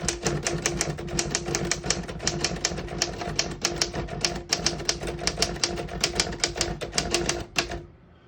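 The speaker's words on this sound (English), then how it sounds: "I'm going to type a sentence on this next line here in red." Rapid, steady keystrokes clack on a 1955 Royal HHE vintage desktop typewriter printing in red ribbon, close and loud with a continuous mechanical hum beneath, stopping abruptly near the end.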